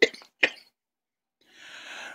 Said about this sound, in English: I still got this goddamn cough that I haven't gotten over.